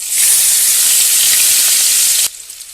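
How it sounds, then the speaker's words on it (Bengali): Chopped onion hits hot mustard oil in a pan with a loud, bright sizzle that hisses steadily for about two seconds, then drops away abruptly to quiet. "তেল গরম হয়ে গেছে দিয়ে দেবো কুচানো পেঁয়াজ"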